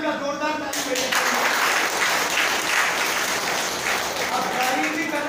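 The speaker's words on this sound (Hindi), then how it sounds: "जोरदार ताली बजाइए" Loud, dense applause from a seated audience at a live talk, steady for about five seconds and swelling after the first moment, with some voices mixed in.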